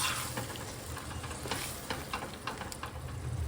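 Green peas tipped into paneer masala frying in a pan, a steady close sizzle with scattered crackles and soft stirring scrapes throughout, no voices.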